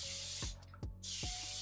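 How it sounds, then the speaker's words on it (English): Three quick bursts of rose water misted from a spray bottle onto locs, loud, close, hissing sprays separated by brief pauses, with no talking. "So I'm just gonna shake this up and spray this in my hair."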